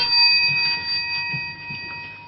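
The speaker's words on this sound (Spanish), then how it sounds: "Us toca la campanilla" A small bell rings in a Catalan football radio or podcast studio, with steady sustained ringing tones and a faint murmur underneath, heard alone at moderate loudness.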